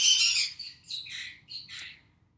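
A pet bird chirps indoors in a quick series of five or six short, high tweets, fairly soft and close, with no talking over them.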